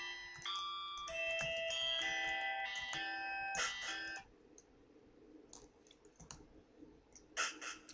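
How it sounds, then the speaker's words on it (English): Rapid typewriter-style text blips and clicks from the video game Stray Cat Crossing, a dense run of bright tonal ticks for about four seconds, then sparser, fainter clicks with a brief burst near the end. "it has a typewriter effect, like the Don't Starve"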